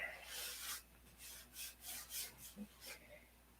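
A paint seam is lightly color sanded by hand, with about eight soft, rhythmic rubbing strokes close by. The strokes are faint and come in a steady back-and-forth pattern, with no clear speech.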